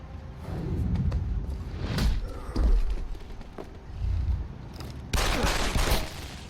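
Gunfire bursts in Deus Ex: Human Revolution, with several sharp shots and thuds of varying loudness over a low rumbling backdrop, and a heavier burst of fire near the end.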